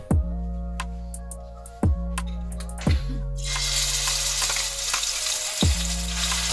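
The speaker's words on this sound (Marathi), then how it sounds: "तर आता हे सगळं आपण फ्राय करून घेऊयात." Ginger, garlic and coriander paste frying in a pan together with onion and tomato puree, with a steady sizzle and several sharp stirring clatters. The hiss swells into a brighter, louder spitting burst partway through.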